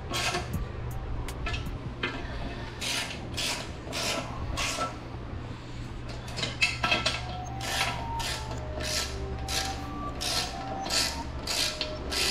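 Wheel bolts on a 3-piece wheel are snugged with a hand ratchet, a quiet, steady run of repeated clicking strokes with faint handling noise between them, close by and without talk.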